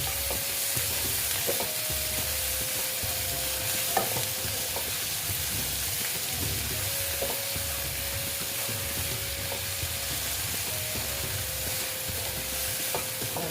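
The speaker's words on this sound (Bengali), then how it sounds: "দিয়ে আবার আমি ভালো মতো ভেজে নিচ্ছি" A boal fish masala with salt and tomato fries and sizzles steadily in a pan over low heat, with soft scraping stirs and occasional small pops, and no talking.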